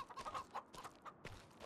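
Chickens in the farming game Farming Simulator 25 cluck in a few short, close bursts, clear and alone with no talk.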